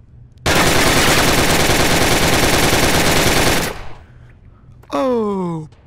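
Gunfire in the VR game Gun Club VR: one loud, continuous automatic burst of about three seconds stops abruptly, and a brief rising electronic whine follows.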